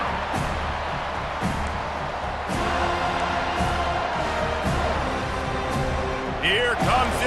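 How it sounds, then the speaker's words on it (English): A home crowd in EA Sports College Football 25 roars and cheers as the defense tries to get off the field on third down, a broad sustained swell under a commentator's voice, with a sharp whistle-like burst near the end. "Here comes this home crowd as the defense tries to get off the field on third down"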